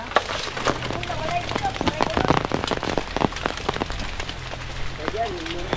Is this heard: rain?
yes